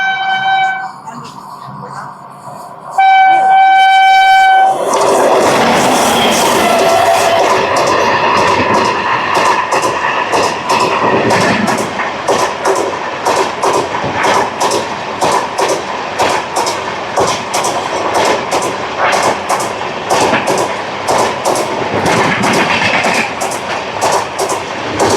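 Train 17646 pulls through with a loud horn blast near the start, then rumbles past close by with steady clickety-clack of wagons over the rails while voices murmur underneath.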